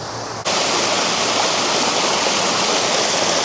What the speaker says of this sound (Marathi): बघा ना असं इकडं पाणी चाललंय.